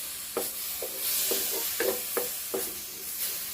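Pork belly stirred in water in a hot wok: a soft bubbling sizzle under about half a dozen distinct scraping strokes of the spatula against the pan, close up and with no voices.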